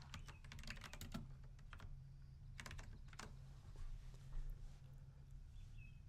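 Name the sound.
typing a message on a computer keyboard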